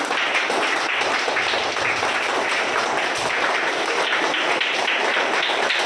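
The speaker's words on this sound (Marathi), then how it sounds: "कार्यक्रमाला गेल्यावर आपण कशी टाळी वाजवतो?" A group claps as at a function, producing steady, dense applause-like clapping that holds at an even loudness from start to finish.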